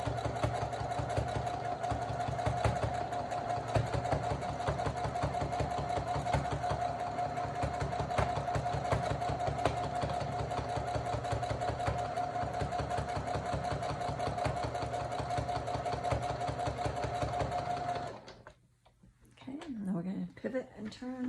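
A sewing machine stitches fleece for a quillo blanket-pillow with a regular presser foot, a steady fast mechanical whir running continuously for about eighteen seconds before stopping, followed by brief handling noise.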